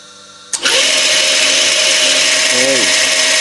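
A Smart & Brown lathe starts with a sudden thump and then runs at a steady, loud whine and broadband whir, driven by a flat belt from its gearbox, with a brief wavering tone near the end.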